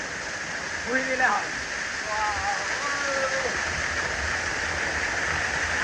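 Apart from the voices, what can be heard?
water falling down from above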